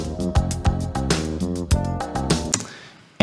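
A track plays alone: a full band mix with a steady bass and drum groove, punchy hits and a bright top end, ending in a sudden loud accent.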